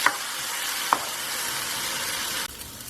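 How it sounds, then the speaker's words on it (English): Onion paste fries in oil with a steady, dense sizzle that holds for nearly three seconds, broken by a couple of sharp utensil clicks near the start and around one second, then drops quieter just before the end; no one talks. "I'm going to cook this paste till my onions are cooked and oil comes out to the side"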